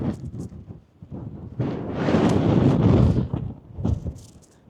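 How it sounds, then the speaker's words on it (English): Wind gusts against a tent pegged out and double-pegged on the windward side while wild camping in the Lake District, rising to a loud, blustery roar in the middle and easing off again, close to the microphone. "This is the wind that's pushing it."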